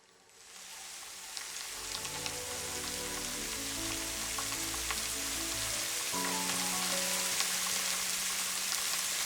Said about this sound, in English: I'm using the forest deciduous ambience in the rain background project here